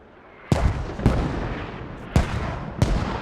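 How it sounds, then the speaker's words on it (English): Mortar rounds land in the military game Squad on the Logar Valley map, sounding as four heavy booming blasts, each with a rumbling tail, spaced irregularly over a few seconds. "Mortar is going to hit here soon."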